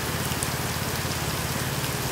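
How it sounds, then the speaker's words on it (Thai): Steady rain falls around a house in rural Thailand during a storm, a dense continuous hiss of drops on surfaces with no break, close and even throughout. "โอ้พี่น้องเอ้ยฝนตก ฝนตกฝนตก"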